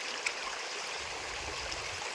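Steady rushing of a stream flowing over rocks in the Satpura hills, continuous and fairly close, with no voices.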